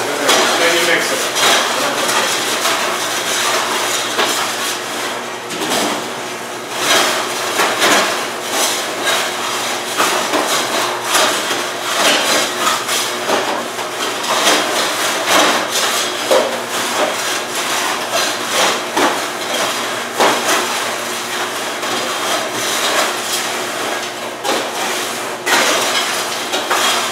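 Kettle corn is stirred inside a large popper, a loud, continuous rhythmic scraping and clattering of metal that persists throughout, with talk faintly underneath.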